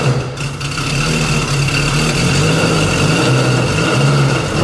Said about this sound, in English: let's get this car started, put some heat in the engine